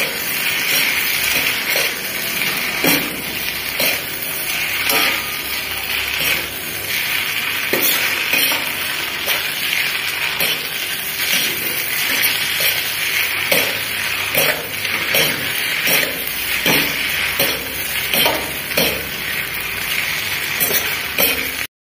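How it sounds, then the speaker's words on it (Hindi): Maggi noodles stirred and mixed with two forks in a pan make a continuous sizzle with rhythmic scraping and clinking strokes, close and fairly loud. "उसके बाद दो फोग लेने हैं और फोग से अच्छे से मिक्स कर लेना है।"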